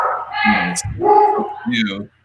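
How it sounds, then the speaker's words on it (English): A dog barks and yips in a home during a live talk show, the calls mixed with people's voices. "Oh, there goes the dog."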